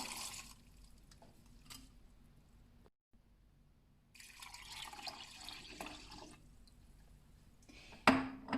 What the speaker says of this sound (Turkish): Şimdi üzerine 2 litre su koyacağım